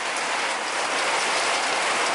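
Rain falls steadily outdoors, a dense, even hiss of drops hitting surfaces close by, constant and unbroken with no voices.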